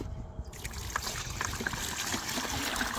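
Water poured from a rain barrel to refill a chick waterer outdoors, a steady close trickle and splash running throughout.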